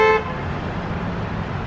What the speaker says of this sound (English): big horn from across the way. I believe it came from the truck